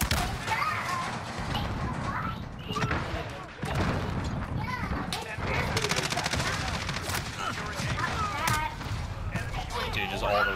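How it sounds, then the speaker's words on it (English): Rockets and heavy gunfire in a multiplayer video game during a fight over a capture point, a dense continuous barrage of loud blasts and rattling shots, with players talking over it throughout. "just all the rockets getting shot at me"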